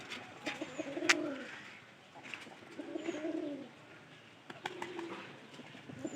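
Domestic pigeons in a coop coo in low, rolling phrases. Three separate bouts come close by over a quiet background, with a few brief chirps between them.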